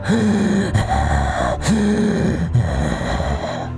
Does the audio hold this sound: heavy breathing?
yes